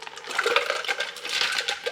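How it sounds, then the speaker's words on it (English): Ice cubes tumble into a blender jar, a quick clattering, rattling cascade of hard knocks and clinks lasting about two seconds, with no talking. "2 cups of ice."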